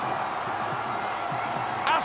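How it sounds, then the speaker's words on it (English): Cricket crowd at the Hong Kong Sixes 2024 cup final between Pakistan and Sri Lanka, a steady roar of distant cheering and clapping that swells slightly near the end, with a commentator's voice mixed in. "Listen to the crowd."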